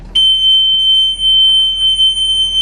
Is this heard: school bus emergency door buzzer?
yes